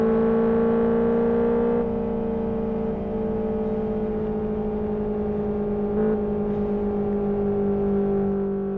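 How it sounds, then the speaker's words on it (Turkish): Steady engine drone and exhaust hum from a car in a driving video game played on a Logitech G29 wheel, holding a level pitch while cruising near its top speed, loud and continuous with a slight dip and rise midway. "Egzoz sesi kafam şişirdi."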